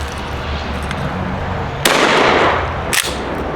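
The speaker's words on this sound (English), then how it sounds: "Alright, so we got our Fed Arm 20 gauge pump action shotgun" A Fed Arm 20 gauge pump action shotgun fires one old, crusty shell with a single loud, close blast. About a second later comes a shorter, sharp crack.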